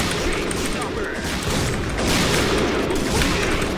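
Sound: gunfire in a zombie video game

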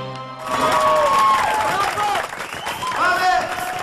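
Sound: live audience applauding

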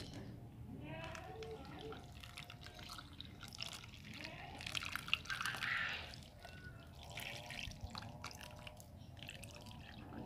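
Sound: watering a coconut bonsai after replanting

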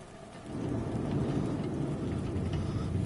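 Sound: thunder strikes and rain in a horror video game

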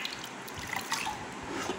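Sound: washing hair in a bowl of water

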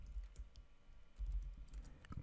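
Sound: typing a terminal command on a computer keyboard

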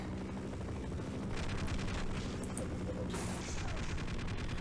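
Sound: helicopter in the video game Half-Life

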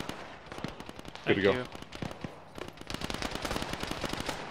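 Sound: gunfire in a video game

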